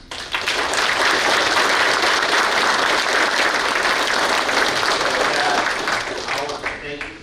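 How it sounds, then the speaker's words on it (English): Town hall audience in San Angelo gives sustained, loud applause from a large crowd, dense and even throughout before tapering slightly near the end. "That deserves a round of applause."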